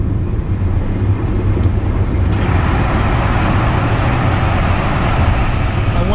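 Car traffic rumbling through a road tunnel, heard from inside a moving car: a steady, loud low roar of engines and tires reverberating off the tunnel walls, continuous throughout with no talking.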